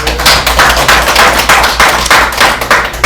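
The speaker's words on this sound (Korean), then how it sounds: "큰 박수로 환영해 주시기 바랍니다." A seated audience at a Korean senior-citizen volunteer program awards ceremony breaks into loud, sustained applause to welcome an arriving guest, with dense clapping continuing steadily throughout.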